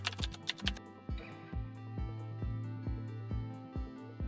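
Keys clatter on a computer keyboard in a quick flurry of taps, then settle into slower, evenly spaced strokes, close and clear with no talk.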